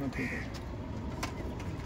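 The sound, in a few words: Madrasi pigeons cooing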